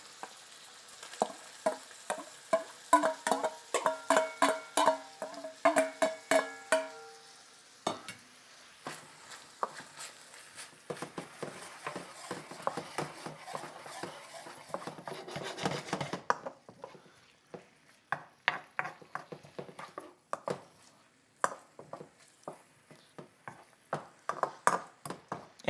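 Bacon and onions stir-frying in a wok for kimchi fried rice, a steady sizzle broken by repeated sharp metallic scrapes and clanks of a spatula against the wok, close and busy throughout with no talking.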